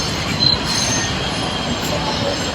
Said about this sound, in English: That's an M train.